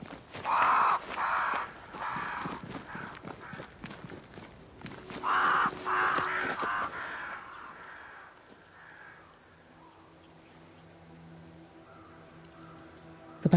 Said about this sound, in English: crows. They flock to that great tree up there.